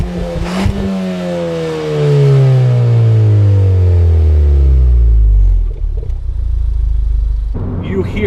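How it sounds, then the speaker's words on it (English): Ford Fiesta ST 2016 engine induction noise heard from inside the cabin, a loud rising drone climbing steadily in pitch as the car accelerates, then dropping away before settling into a lower rumble. "It makes the induction noise louder."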